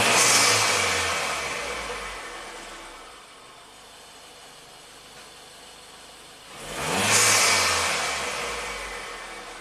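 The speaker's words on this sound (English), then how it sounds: "Nice turbo sounds. So that's normal." A Ford EcoBoost engine with a P0106 fault revs hard with audible turbo whoosh, surging loudly at the start and again near the end, with a lower, steadier idle drone between the two bursts.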